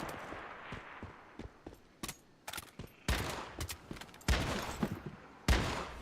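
Gunfire in the survival shooter Once Human: rapid bursts and single shots crackle loudly over a low game-world rumble. The bursts get heavier and denser in the second half, with no talking.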